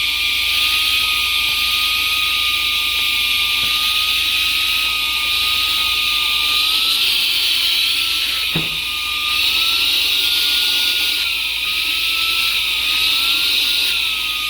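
A GeeMo G201 cordless 4-in-1 vacuum cleaner runs on high speed, giving a loud, close, steady motor whine with a sustained tone that wavers slightly in pitch, plus one brief knock partway through.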